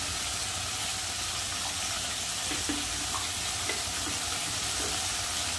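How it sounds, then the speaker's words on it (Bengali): Spice paste of ground dried chilli and cumin fries in a pan for a jackfruit curry, giving a steady, soft broadband sizzle with a few faint clinks, close and continuous with no voices. "এবার ভালো করে মশলাটা কষিয়ে নেব।"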